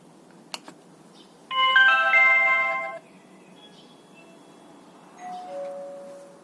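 A Xiaomi Zero AI video doorbell chimes indoors: a short click, then a clear electronic multi-tone ring lasting over a second, followed later by a softer second tone, with no talking.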